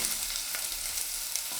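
Onions sautéing in a pan, a close, even crackling sizzle with faint stirring, no voices.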